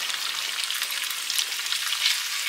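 Drained pasta fries in a pan with some of its cooking water added, producing a loud, steady, close hiss and crackle of sizzling with no talking.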